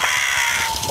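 A crow-call robot plays a single synthetic crow 'hello' caw, a one-second harsh, buzzy call heard close and alone.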